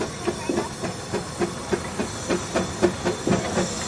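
Steady loud hiss of steam with rhythmic chuffing pulses from a running 40-horsepower Case steam traction engine at the 2006 Case Expo in Rollag, no voices.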